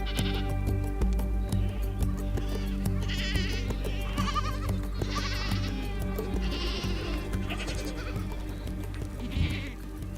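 A herd of goats in the Sahara's Zagra region bleats loudly and repeatedly, with several overlapping calls close by over a steady low rumble.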